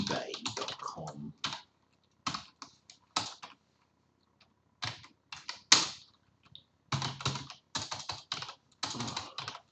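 Rapid bursts of typing on a computer keyboard, clattering keystrokes in irregular clusters separated by short pauses, close and fairly clear with no talk over them.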